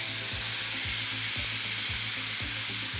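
Pork with burdock, carrot and onion sizzling steadily in a hot pan, a loud continuous fry with regular stirring scrapes and clacks of a utensil against the pan throughout, no voices.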